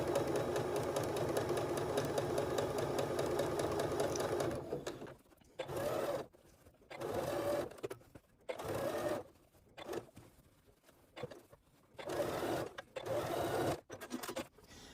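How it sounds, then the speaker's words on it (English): Sewing machine stitching a padded DSLR camera lens case, running in one long continuous burst close up, then stopping and starting in several short bursts with quiet gaps between. "because I'm sewing in the blind here, so I can't see where the measurement actually is."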